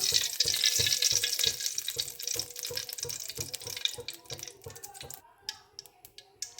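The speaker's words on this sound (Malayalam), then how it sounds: "ചട്ടി ചൂടായിട്ടുണ്ട് അതിലേക്ക് എണ്ണ ഒഴിക്കാം" Oil hisses into a hot pan as tempering begins for a South Indian dish, a broad bright sizzle with a steady pulsing clatter beneath, fading after about five seconds into scattered light clicks and pops.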